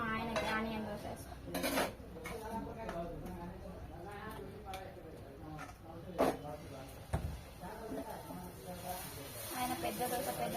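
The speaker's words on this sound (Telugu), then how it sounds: "ఇప్పుడు మా ఆయనకి ఆనియన్ దోశ వేస్తాం." An onion dosa cooks on a pan amid clinking utensils, scraping and a soft hiss, with someone talking over the kitchen sounds.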